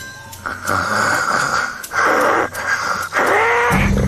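A voice imitates a person snoring during a midday nap: loud, close, rasping inhaled snores repeating in a steady rhythm, with a snort at the end.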